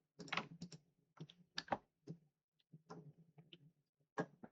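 Quiet, close typing on a computer keyboard, with soft key clicks in short irregular bursts and brief pauses between them, alone in a silent room.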